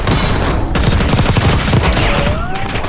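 Dense rapid gunfire in the shooter game Warzone, loud and continuous, overlapping volleys of shots with no pause.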